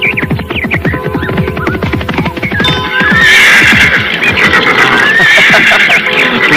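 A horse neighs loudly and close by in a high, shrill whinny, with a second whinny trailing off. Busy rhythmic drumming and clatter from a soundtrack run underneath.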